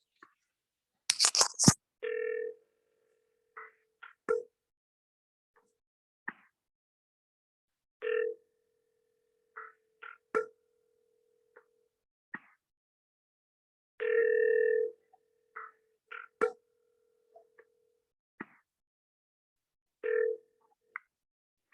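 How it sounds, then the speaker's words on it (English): A telephone line rings intermittently during a call to a real estate agent. Short tone bursts sound at irregular intervals over about twenty seconds, with long quiet gaps and occasional faint clicks. "Calling the agent now."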